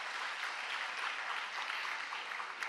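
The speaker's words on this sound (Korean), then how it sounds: "박수 한번 해주시길 바랍니다." A church congregation at a Friday prayer meeting applauds, a steady, dense wash of clapping heard from a distance and fairly quiet throughout, with no voices over it.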